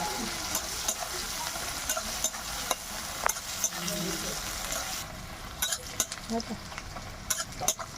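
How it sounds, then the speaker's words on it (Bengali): Onions sizzle steadily in an oiled pan with bay leaf, cloves, cinnamon and cardamom, broken by repeated sharp scrapes and clinks of a spoon stirring against the pan. "পেঁয়াজটা আমার ভাজা ভাজা হয়ে গেছে"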